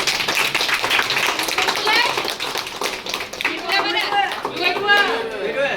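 A group claps for the volunteer victim and helper after a CPR demonstration: scattered claps in the first couple of seconds, then people chatter and speak over the fading applause.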